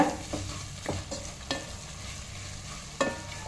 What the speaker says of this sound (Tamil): அதையும் சேர்த்துட்டு அந்த எண்ணெய் கூட நல்லா வதக்கி விடுங்க